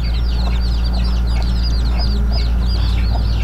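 Native chickens cluck in quick repeated bursts over a constant low hum, close and busy with several hens calling together around a nesting area.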